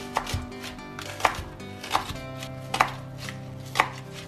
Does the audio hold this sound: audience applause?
no